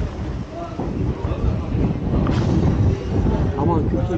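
Wind blowing near Marmaris harbour on a cool day, a steady, fairly loud gusting rush that buffets the microphone throughout with a brief lull early on.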